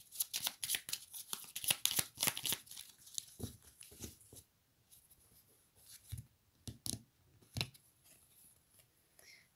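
Oracle cards being shuffled and drawn, a run of crisp riffling and flicking bursts at first, then sparser slaps and slides of cards, close and without talk.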